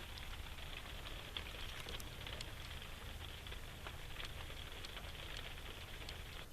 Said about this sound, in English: Sound of rain on aluminum and fiberglass.